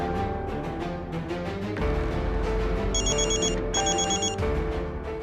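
A phone ringtone chirps in repeated bursts partway through, sounding over steady background music.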